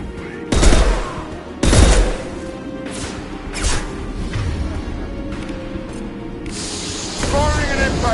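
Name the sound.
gunfire in the video game Mass Effect 2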